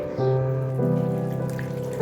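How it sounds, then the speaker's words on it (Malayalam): Water runs into a pot of chopped vegetables for a Kerala aviyal, a loud steady pouring stream with a rising tonal ring as the vessel fills. "ഇനി ഇത് വെന്ത് വരാൻ ആവശ്യത്തിന് വെള്ളം ചേർത്ത് കൊടുക്കണം"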